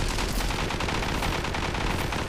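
Rapid, continuous P90 submachine gun fire in the mobile shooter Zula Mobile, a dense unbroken burst of shots at steady loudness lasting over two seconds with no voices.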